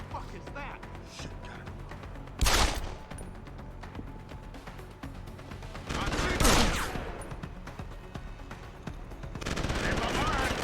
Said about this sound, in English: He's just shooting right into the thing in front of him